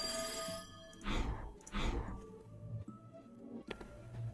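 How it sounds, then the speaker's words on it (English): An old-fashioned telephone bell rings in the puzzle game There Is No Game, two clear bursts of ringing about a second apart over a quiet room ambience with faint background tones. "What was that sound like a ringing bell?"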